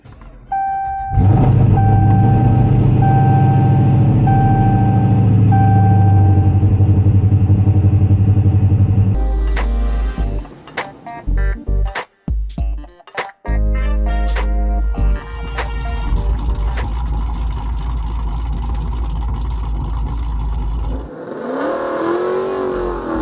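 A vehicle engine cold-starts and holds a loud, steady idle with a high whine, then cuts to choppier engine and mechanical noise with brief dropouts and a rising whir near the end, no speech.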